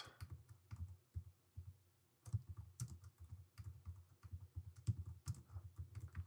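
Typing on a computer keyboard produces quick, close, soft key clatter in uneven bursts, with a brief pause partway through and no talk.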